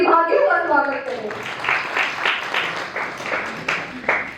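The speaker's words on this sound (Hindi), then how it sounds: "आइए खुले हृदय और उत्साहपूर्ण तालियों के साथ जूनियर हिंदी वर्ग के प्रतिभागियों का स्वागत करें।" An audience claps to welcome the participants of a junior Hindi class at a Swami Vivekananda Jayanti event. A voice is heard at first, then scattered, moderately loud clapping continues to the end.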